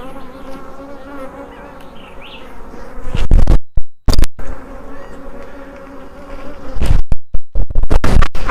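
Dense buzzing of many honey bees close by around a hive, with a few loud bumps and crackles of handling partway through.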